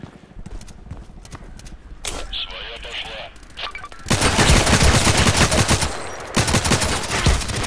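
Gunfire in the online shooter Contract Wars: scattered single shots and short bursts at first, then a loud, dense stretch of rapid automatic fire that keeps going to the end.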